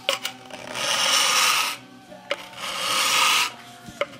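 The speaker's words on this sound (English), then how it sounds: "use simply a knife as a scraper. Comparatively sharp knife, smooth blade on it. But you scrape with the grain." A sharp, smooth-bladed knife scrapes old finish off a wooden gunstock with the grain in two long, steady rasping strokes, each about a second long, close and fairly loud, with small taps between them and no talking.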